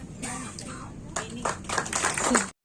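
Audience applause at an award ceremony, a short burst of clapping swelling toward the end with speech just before it.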